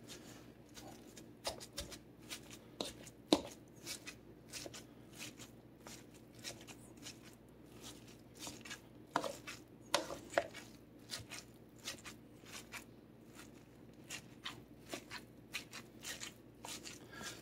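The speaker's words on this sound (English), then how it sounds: "so now I'm gonna mash it up even further here." Cooked cauliflower is mashed in a big bowl for cutlets, with repeated soft squishing and tapping strokes in an irregular rhythm, close and quiet.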